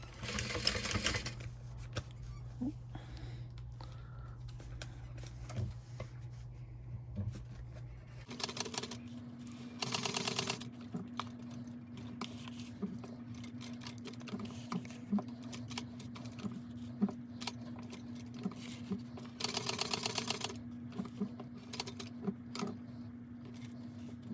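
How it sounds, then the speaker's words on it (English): Sewing machine running steadily as it top stitches along a stitch line and back stitches, with a continuous close motor hum and several louder bursts of rapid needle chatter; no talking. "I'm going to follow my stitch line that I have on here from top stitching, and I'm going to back stitch."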